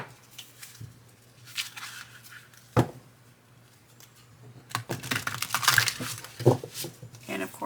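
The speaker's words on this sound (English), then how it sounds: "we'll just shuffle a few more times" A deck of tarot cards is shuffled by hand, giving sparse soft taps and riffles early on, then a denser run of crisp card flicks and snaps near the end, close to the microphone.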